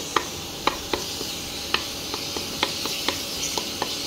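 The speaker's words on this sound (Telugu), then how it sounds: "ఫస్ట్ అల్లం వెల్లుల్లి పేస్ట్ని మాత్రం సపరేట్గా ఇలా కొద్దిగా ఫ్రై చేసుకుంటే బాగుంటుంది" Ginger garlic paste frying in a little oil in a pan for chicken curry, a steady bright sizzle with regular light ticks of a spoon stirring about twice a second, no voices.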